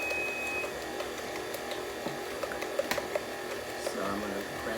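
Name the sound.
electric mixer blending cheesecake batter with eggs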